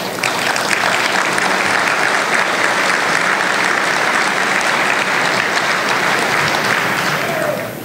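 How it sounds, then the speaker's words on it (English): Convention audience at a Minnesota Republican State Convention gives loud, sustained applause, a dense wash of many hands clapping steadily throughout without a break. "I think that even the applause, I like the applause"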